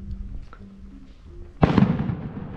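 Fireworks rockets go off near a sports field during a town dance festivity, a sudden loud burst of crackling explosions after a quiet stretch of faint background murmur.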